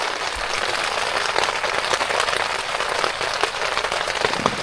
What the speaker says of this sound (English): And we'll see how long this rain goes for.